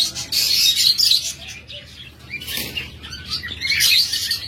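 Pet lovebirds and budgerigars chirp and tweet in a busy, overlapping chorus of high bright calls, close and fairly loud, rising and falling in bursts with no talking.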